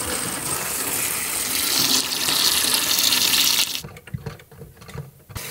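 Water gushes steadily from a tap while a pipe is purged, a loud continuous rush that cuts off abruptly near the end, leaving faint knocks and small handling sounds.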